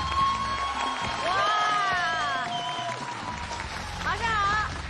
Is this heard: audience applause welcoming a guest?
yes